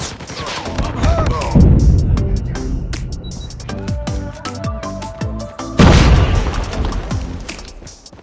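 In Call of Duty Mobile multiplayer, a Semtex grenade goes off with heavy booming blasts amid gunfire, loud and dense, with scattered metallic clicks and a second big burst later.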